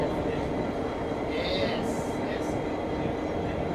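An SSR locomotive rumbles at Strathfield station as a steady, broad low drone with faint higher whines; a voice speaks briefly over it.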